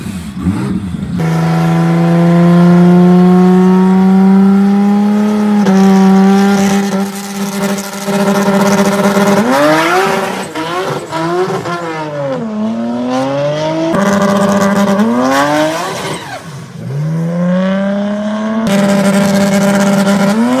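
A 2010 Chevrolet Camaro SS V8 roars loudly and close, holding a steady high rev before rising and falling through repeated acceleration sweeps and gear changes as it drives, with no voices.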